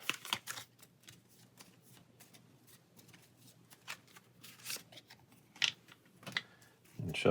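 Pathfinder Adventure Card Game cards are handled and shuffled on a table in short irregular bursts of soft riffling and flicking, close and fairly quiet.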